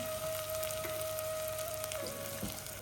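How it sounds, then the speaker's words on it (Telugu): Sliced onions sizzle steadily in hot oil in a pan for gongura mutton, a continuous close frying hiss with faint crackles and a steady tone behind it. "కొంచెం ఆయిల్ ఉల్లిగడ్డలు వేసుకొని అవి దూరగా వేంపాలి"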